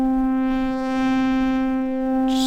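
Sustained synth tone from a sample-based crossfade loop synth using a pulse-width effect that mimics an old Casio phase-modulation sound, holding a steady bright harmonic note for about two seconds before a brief burst of noise at the end, with no talk.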